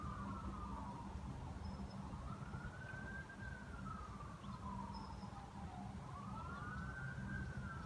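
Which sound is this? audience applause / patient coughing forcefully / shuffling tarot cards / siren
siren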